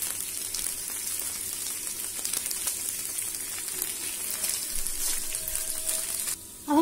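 Chicken malai tikka sizzling in a pan over a low gas flame: a continuous soft frying hiss with scattered crackles and pops, steady and close, ending in a brief clatter.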